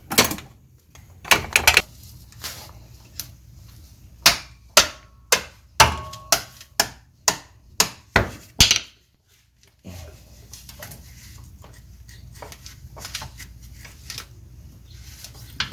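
Sharp metallic knocks and jerks while a pry tool works a Toyota Camry axle loose from the transmission, with a rapid series of close, loud impacts followed by quieter shuffling.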